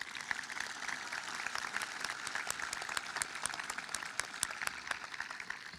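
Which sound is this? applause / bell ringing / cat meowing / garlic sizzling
applause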